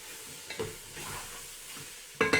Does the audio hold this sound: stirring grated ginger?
yes